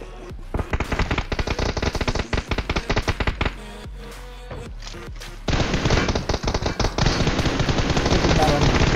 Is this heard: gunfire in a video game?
yes